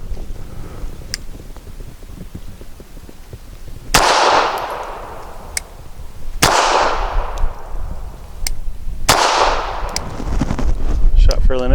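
Three sharp, loud gunshots from a Bersa Thunder 380 pistol with a threaded barrel firing Browning full metal jacket ammunition, spaced a few seconds apart, each with a ringing outdoor tail over steady background noise.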